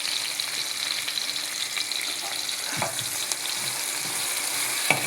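Curry leaves crackle and sizzle in hot oil for a drumstick mutton curry, a steady close frying hiss with a couple of sharper pops, no talking.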